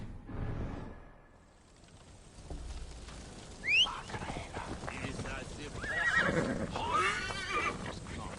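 A horse in Assassin's Creed Valhalla gives a clear neigh and whinny, with hoof clip-clops and game ambience around it and a voice talking over parts of it.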